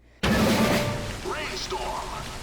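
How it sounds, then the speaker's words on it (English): Rain falls in a China-exclusive Call of Duty video game, a dense, steady hiss of downpour that starts suddenly and carries on loudly, with faint game effects in the background. "It's raining, and now it's hard to see."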